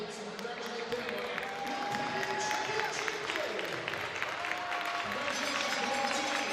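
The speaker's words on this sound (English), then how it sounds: "Let's have a round of applause for these young athletes" Crowd in an arena clapping for young players after a midget A hockey final, with a dense patter of hands under an announcer's voice and echoing arena noise.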